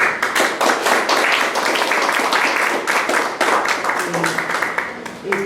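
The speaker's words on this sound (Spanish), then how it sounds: "Por favor, le despedimos con un fuerte aplauso." An audience gives a loud, sustained round of applause to farewell a speaker at a university session, with dense clapping throughout and a voice briefly heard near the end.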